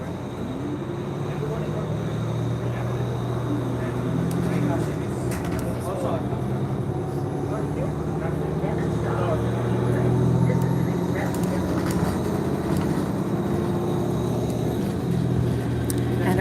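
A Toronto TTC city bus, number 8134, rumbles along a highway past the Queensway garage as heard from inside, a steady low engine drone and road noise with rattles throughout.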